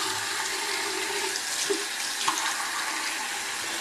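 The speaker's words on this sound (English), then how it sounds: "So here is the lather test for Citrus Zest." Hands rub up a lather of Citrus Zest soap under a running tap. The water makes a soft, steady hiss, with a few faint splashes and rubbing sounds on top.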